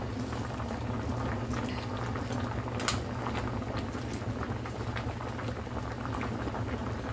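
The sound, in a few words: sinigang fish broth boiling over in a pot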